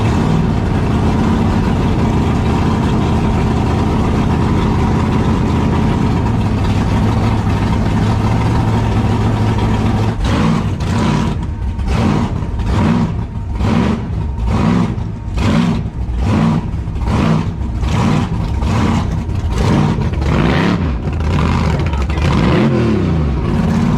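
A supercharged, injected car engine with a big blower, a 565 motor, idles with a loud, rough, lumpy rumble, then breaks into a long series of sharp, rhythmic revs, close and dominant throughout.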